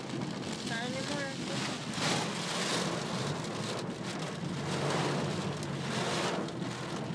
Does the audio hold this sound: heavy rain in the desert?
yes